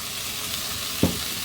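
Chicken sizzling loudly in a pan as garlic and onion powder are stirred in, a constant hissing fry with one brief scrape of the utensil near the end, close and alone without talk.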